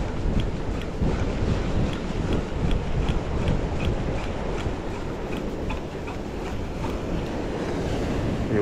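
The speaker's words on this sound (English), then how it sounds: "the waves are going to crash right over here" Ocean waves roll and break over a rocky bommie by a Sydney shoreline rock ledge, a loud, continuous roaring wash of surf mixed with steady wind buffeting the microphone.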